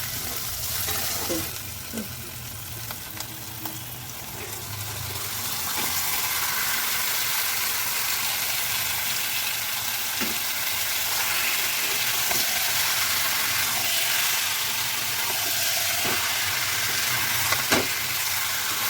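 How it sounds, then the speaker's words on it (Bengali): Marinated chicken frying with softened tomatoes for chicken kosha, a steady close sizzle with occasional stirring scrapes and clinks, growing fuller and louder partway through. "এবার ম্যারিনেট করে রাখা মাংসটা ঢেলে দেব।"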